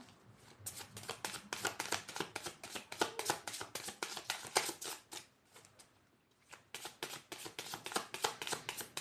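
Oracle cards are shuffled by hand close up and quietly, a rapid run of crisp riffling bursts with a short pause partway through before the shuffling resumes.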